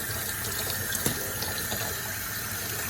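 A tap runs steadily during a green cheek conure's bath, giving an even, close splashing hiss of flowing water with no talk.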